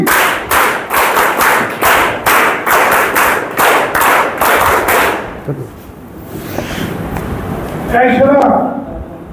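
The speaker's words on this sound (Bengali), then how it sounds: "হাত খালি বাজাও জোরে স্কাউট তালি" Audience at a meeting doing a scout clap, about a dozen loud, evenly timed group claps close by, followed by a pause with voices and some scattered noise.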